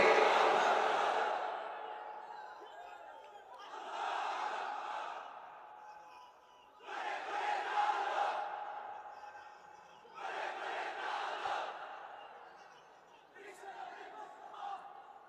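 A large crowd at an outdoor Islamic sermon gathering roars a takbir chant in repeated waves, five loud swelling shouts separated by short pauses, with a leading voice calling out between them.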